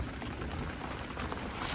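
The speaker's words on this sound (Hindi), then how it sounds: "इतनी ज़्यादा बारिश लगी हुई है ना यहाँ पे" Heavy rain pours down in Dharamshala, a steady dense hiss of drops on surfaces, fairly quiet and continuous with no voices.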